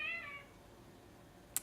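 A cat gives one short, faint indoor meow at the start, followed by quiet room tone and a small click near the end.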